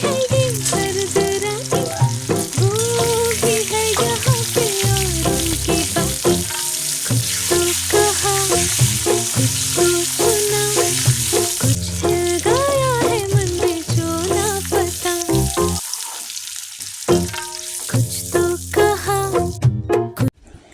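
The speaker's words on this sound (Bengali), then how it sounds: "কড়াইতে সাদা তেল, সর্ষের তেল দিয়ে সামান্য লবণ দিয়ে আলুটাকে ভেজে তুলে নিতে হবে" Potatoes frying with a little salt in white oil and mustard oil in a wok, giving a steady loud sizzle with occasional stirring under continuous melodic background music.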